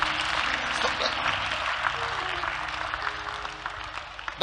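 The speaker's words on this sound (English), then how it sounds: "give a big clap offering to Jesus" A church congregation gives a sustained round of clapping as a clap offering to Jesus during a sermon, a dense, even wash of applause with a faint voice under it.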